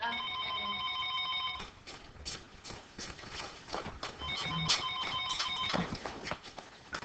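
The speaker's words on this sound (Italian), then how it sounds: "Nonna, il telefono." A telephone rings indoors during a home scene in the Italian TV drama Incantesimo, sounding as two clear warbling ring bursts separated by a pause, with light background movement noise.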